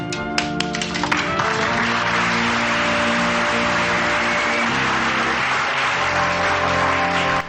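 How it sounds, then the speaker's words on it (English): A studio audience for the sitcom Happy Days breaks into loud, sustained applause, dense clapping that starts after a few sharp hits and holds steady to the end. "He literally gets applauded as he walks off screen"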